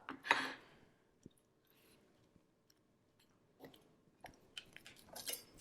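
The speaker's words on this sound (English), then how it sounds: "And slice them into about bite-sized pieces" A knife slices tender grill-pan vegetables into bite-sized pieces for an orzo pasta salad: a crisp crunchy cut up front, then quiet gaps broken by a few soft taps and later scattered crunches and board knocks, close and clear.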